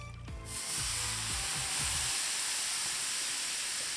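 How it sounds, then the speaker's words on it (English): A sudden loud hiss as room-temperature water is sprayed onto a hot new griddle, settling into a sustained steamy sizzle. "spraying some room temperature water on it"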